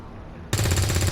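A soldier fires a gun in the XCOM 2 video game, a sudden loud burst that cuts in after a moment of near quiet and keeps rattling as rapid, closely spaced shots to the end.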